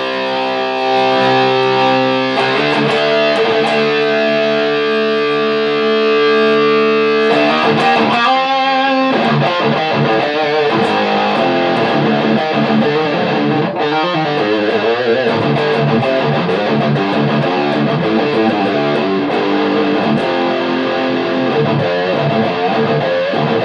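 Electric guitar run through a Boss Metal Zone pedal into an Orange Micro Terror head, playing loud, heavily distorted riffs with sustained chords and busy picked passages throughout, with no talking.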